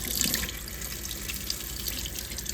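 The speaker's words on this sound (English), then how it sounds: "run it under tap water" Tap water runs steadily over a cardboard carrot decoration under a faucet, a soft, constant splashing hiss with faint spattering.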